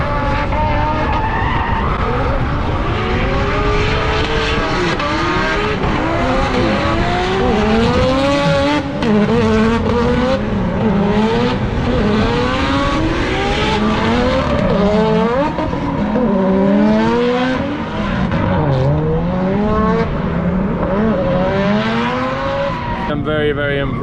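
A yellow Mazda RX-7 drift car at a Russian drift track day at Atron track revs hard and continuously, its engine note rising and falling with long screeching tire skids, loud and close throughout.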